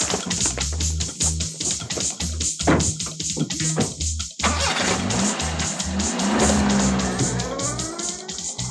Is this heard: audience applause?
no